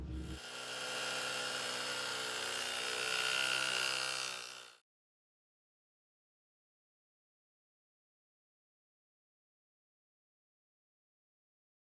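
A rotary hammer drilling into concrete: a loud, steady grinding roar runs for about four and a half seconds, then cuts off abruptly into silence.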